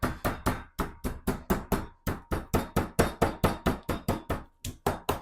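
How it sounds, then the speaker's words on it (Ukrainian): A meat mallet pounds chicken in a fast, steady series of sharp thuds, close by, with no talking. "Все відбиваємо легенько"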